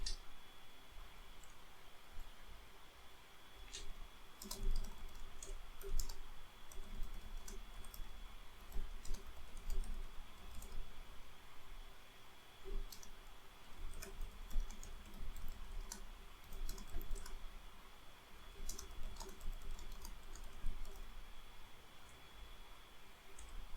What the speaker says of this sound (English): So let me just type in regenerate this article.